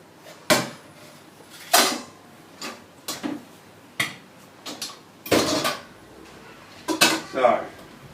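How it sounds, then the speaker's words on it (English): Pots, plates and cutlery clatter and knock in a kitchen while boiled eggplants are drained for eggplant preserved in oil, with about a dozen sharp separate clanks and scrapes at an irregular pace, close by and fairly loud. "so the eggplants come to the boil, so we're going to drain it"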